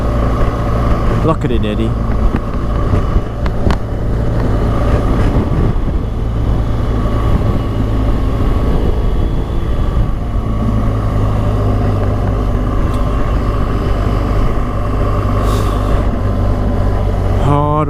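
Continuous loud engine drone of a motorcycle being ridden along Heidelberg-Kinglake Road near Hurstbridge, Victoria, Australia, with steady wind rush and a rider speaking briefly over it.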